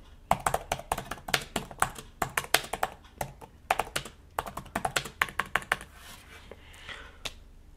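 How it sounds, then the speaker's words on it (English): Typing on a Surface Pro X keyboard cover gives rapid, close, crisp key clicks in irregular flurries, thinning out toward the end. "this is the sound you are going to hear when typing on the keyboard."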